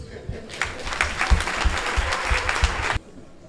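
Audience members at a literary gathering in Senegal honoring a professor clap for a speaker in a brief, dense burst of applause that swells quickly and cuts off abruptly.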